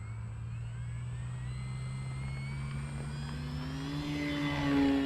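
An FMS Ranger 1800mm RC airplane taking off with flaps deployed, its electric motor giving a steady drone that rises in pitch and swells louder toward the end.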